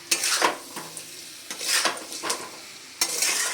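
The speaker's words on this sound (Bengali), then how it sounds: "লবণ হলুদ দেওয়া হয়ে গেছে, আবারও খুব ভালো করে আমি নেড়ে চেড়ে নেব" A utensil scrapes and stirs chicken pieces with salt and turmeric over a medium flame, producing repeated rasping sweeps of metal on the pan and light clinks over a low background sizzle, with no voices.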